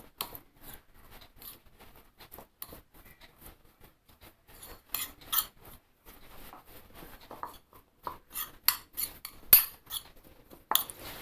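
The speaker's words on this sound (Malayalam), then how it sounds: "ഇനി ഈ മഞ്ഞ നമുക്കൊന്ന് സ്പൂൺ കൊണ്ട് പൊടിച്ചെടുക്കാം" Boiled egg yolks are mashed with a spoon in a bowl, producing close, irregular scraping and tapping clinks of metal against the dish that grow busier toward the end.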